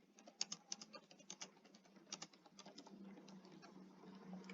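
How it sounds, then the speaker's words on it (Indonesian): Quiet, rapid keystrokes patter on a computer keyboard while Python loop code is typed, an uneven run of close clicks that trails into softer, denser tapping, with no speech. "Langsung saja kita ketikkan ya."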